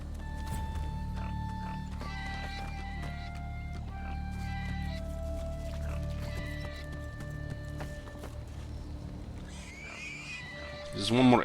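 Burning pigs in the video game Divinity: Original Sin II give squealing, neigh-like cries over steady in-game music, and a sharp rising squeal swells loudly near the end.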